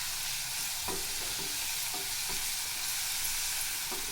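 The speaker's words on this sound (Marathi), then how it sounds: "हे छान असं परतवून घ्यायचं आपल्याला." Onions sautéing for Maharashtrian chicken sukka, a steady frying sizzle with a few soft stirring scrapes at intervals, moderately close, no talk.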